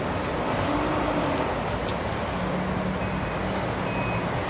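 A truck towing a trailer reverses and turns while parking, with steady reversing beeps sounding over a continuous low engine rumble and road noise at moderate distance.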